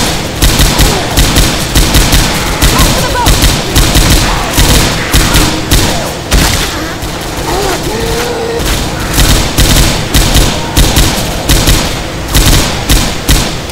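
M60 machine guns fire in Left 4 Dead 2 survival mode on Swamp Fever, loud sustained bursts of rapid gunfire with booming thuds, nearly continuous for over thirteen seconds, with faint voices underneath.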